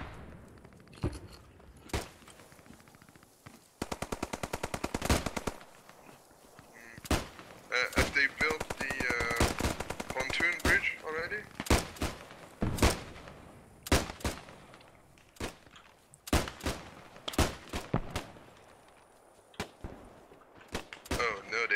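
Gunfire in the WWII shooter Post Scriptum, loud sharp reports and bursts firing in irregular clusters, some rapid strings, close and dominant with brief voice chatter between.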